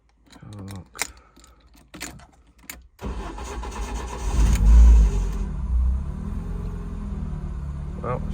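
A drift car project's engine cranks and catches after some clicks and faint voices, then runs with a deep, rough, uneven rumble and a surge in revs before settling into a lumpy idle nearby.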